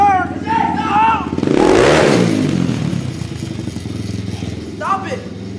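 A dirt bike engine revs hard during an attempted wheelie, a loud rising then falling motor roar up close, with excited shouting voices over and around it.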